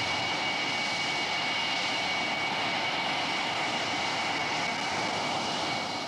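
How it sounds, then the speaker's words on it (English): A test aircraft taxiing in after touchdown makes a steady, dense engine whine and rushing roar, fairly loud and unbroken throughout, with no voices over it. "Jim Ludford makes a perfect touchdown and taxis in after the fastest flight he has ever made."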